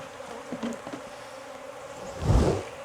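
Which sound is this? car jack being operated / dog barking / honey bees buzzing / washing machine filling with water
honey bees buzzing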